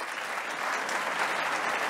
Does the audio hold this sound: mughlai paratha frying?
no